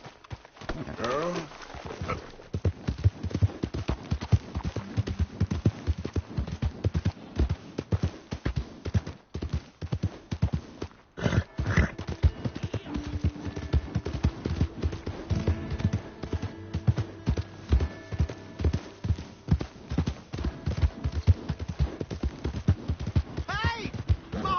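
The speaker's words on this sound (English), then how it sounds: "Hey! My horse!" Steady clip-clop of horse hooves from a video game runs throughout, with voices talking over much of it.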